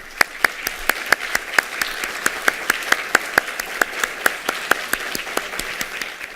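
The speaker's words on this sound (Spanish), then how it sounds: "yo sí pediría un aplauso, pero para todos juntos" Rhythmic unison clapping from an academic audience at a descriptive cognitive linguistics closing ceremony, a steady beat of sharp claps about three per second over a bed of scattered applause, lasting the whole stretch.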